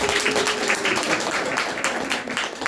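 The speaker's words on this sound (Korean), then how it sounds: "박수 좀 쳐주세요." A class audience at a Korean year-end session applauds a perfect-attendance award winner: brisk, fairly close clapping from a modest group, steady throughout the short burst.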